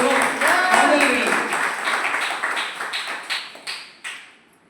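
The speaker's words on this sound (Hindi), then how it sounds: "एक जोरदार ताली होना चाहिए हमारे दोनों मॉडल" An audience at a Safeshop Gita Pariwar gathering in Sonepur, Bisalpali claps loudly together; the dense applause gradually thins into a few scattered, fading claps.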